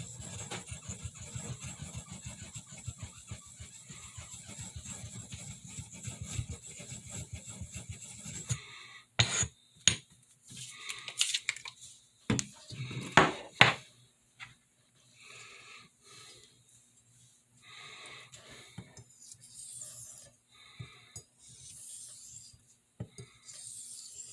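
A rubbing stone worked across a vintage Coticule whetstone gives a steady low rasping scrape for several seconds, then breaks into scattered sharp strokes and clicks before quieter intermittent rubbing resumes.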